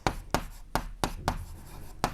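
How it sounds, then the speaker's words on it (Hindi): Pen scratching quickly on paper, a run of six short, close strokes in a steady rhythm, with no talking over them. "रुको मैं लिखती हूँ"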